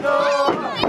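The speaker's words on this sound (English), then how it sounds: "You hear the crowd." Wrestling arena crowd at an AEW event in a ballpark, a loud sustained roar of cheering and shouting with sung-out voices swelling and dipping throughout.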